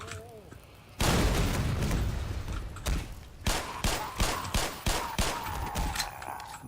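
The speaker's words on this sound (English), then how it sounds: "Gun sounds are really nice." Rapid bursts of gunfire and sharp shots crackle loudly in the video game Black Mesa, with a heavy volley followed by a string of separate bangs over a low background rumble.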